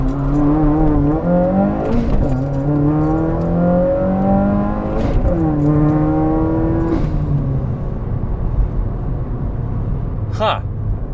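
A car fitted with a Tomei Expreme Ti exhaust accelerates hard from a standstill to 60 mph. The engine note climbs in rising sweeps through several gear changes and then fades, with a brief squeak near the end.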